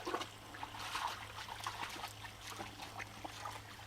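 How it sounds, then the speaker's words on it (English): Water trickling through rocks into a dug-out settling pond, a faint, uneven dribbling and splashing over a low steady hum, nearby and quiet. "Look at that water coming through there."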